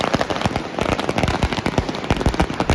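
Diwali firecrackers burst in rapid, overlapping bangs, a dense barrage of loud close and mid-distance cracks with no pauses.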